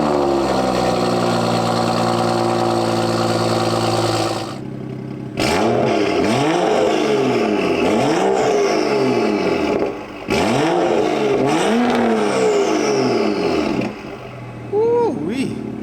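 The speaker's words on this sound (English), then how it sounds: "So now we'll get a cold start going and see what she sounds like." A BMW F30 335i with N55 engine cold starts, turns over and rumbles at idle, then revs up sharply several times in a row, each rev rising and falling loudly nearby.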